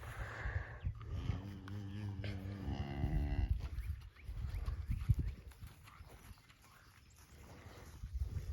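Several cattle moo at a hillside mineral trough, long low calls with rich harmonics, close by and repeated over steady outdoor rumble, with faint thuds in the background.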